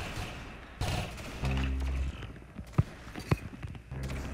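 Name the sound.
rapid gunfire from spam guns in the video game Roblox Arsenal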